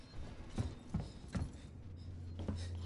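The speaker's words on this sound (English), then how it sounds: "Footsteps" Heavy running footsteps in Alien Isolation, four or five thudding, evenly spaced steps with a low hum swelling underneath toward the end.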